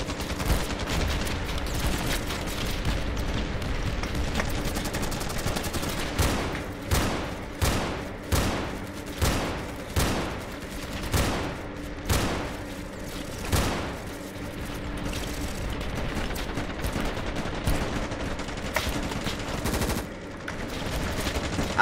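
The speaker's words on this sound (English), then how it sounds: "I'm like mag dumping into them." Rapid automatic gunfire in the modded video game Ravenfield, sustained bursts of rattling shots in quick rhythm, loud and continuous with a dense run of evenly spaced reports in the middle.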